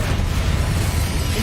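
Confringo explosive spell cast in Hogwarts Legacy, a dense, loud roaring blast that fills the whole moment with continuous rumbling noise and no pause.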